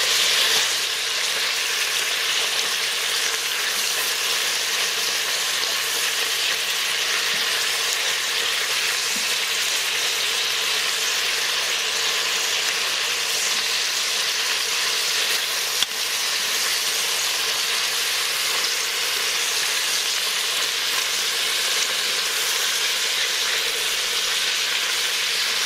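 Pork pieces and garlic sear in an Instant Pot, giving a steady, loud, broadband sizzle that holds evenly for the whole stretch with no talking over it.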